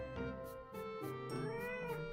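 A pet cat gives one rising-and-falling meow over a steady tonal background with faint soft chimes; the sound is quiet and there is no talking.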